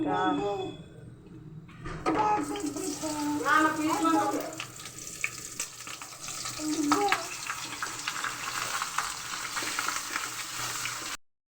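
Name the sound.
frying garam masala, cardamom, raisins, nuts in oil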